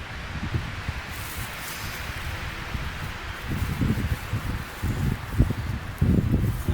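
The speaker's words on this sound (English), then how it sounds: "I know you can't see on the camera, but it's very windy." Strong wind blows outdoors in a pine area, a steady broadband rush with gusty swells and rustling that grow louder toward the end, with no talking.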